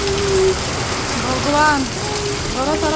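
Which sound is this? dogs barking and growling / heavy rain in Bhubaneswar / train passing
heavy rain in Bhubaneswar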